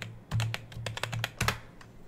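Commands typed on a computer keyboard at a Windows command prompt, a quick irregular run of close, crisp key clicks with no voice over them.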